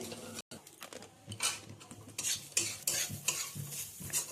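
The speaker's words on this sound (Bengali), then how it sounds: "পেঁয়াজটা কিন্তু এরকম করে নেড়েই যেতে হবে, নয়তো পোড়াতে লেগে যাবে।" Onions frying in a pan sizzle under repeated scraping strokes of a spoon, a quick irregular rhythm of stirring close by.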